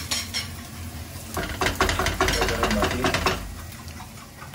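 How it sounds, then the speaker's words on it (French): A utensil stirs a quiche Lorraine mixture in a bowl, giving rapid scraping and clinking strokes close by that peak midway and then ease off. "donc je remélange le tout"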